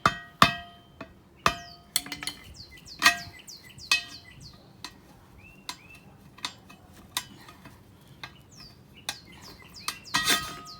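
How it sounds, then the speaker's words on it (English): Sharp metallic hammer taps ring out at irregular intervals, knocking a wheel weight off a rusty steel wheel from a 1994 Ford F150, each strike clear and close with quiet gaps between. "I'm gonna pop off this other wheel weight."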